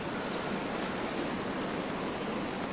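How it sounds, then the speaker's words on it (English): Heavy rain falls by a river, a dense, even hiss of drops with no breaks, steady and moderately loud over the whole stretch. "The rain's falling a bit heavier now."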